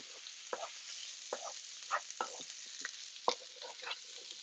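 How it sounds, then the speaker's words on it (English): Shrimp and beef scampi being stirred in a pan, a soft background sizzle broken by irregular scraping and clinking strokes of the utensil, close and fairly quiet. "Give that a stir."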